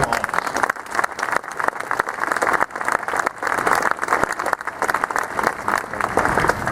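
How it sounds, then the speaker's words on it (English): An audience at a gubernatorial inauguration applauds for two former governors, with dense, steady clapping filling the whole stretch, loud and sustained without any clear talk over it. "please give them a round of applause"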